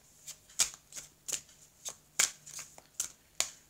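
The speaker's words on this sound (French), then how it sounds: "je vais vous prendre 6 cartes ici, s'il vous plaît" Tarot cards shuffled and drawn by hand, heard as a run of about ten crisp, close slaps and riffles at an uneven pace, alone with no voices.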